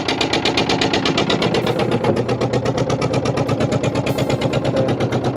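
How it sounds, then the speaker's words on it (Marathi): A fishing boat's engine at sea, out for a deep-sea morning fishing trip, runs close and loud with a steady, rapid chugging pulse that holds unbroken throughout. "आता इंजिन स्टार्ट मारून आपण निघूया घराकडे"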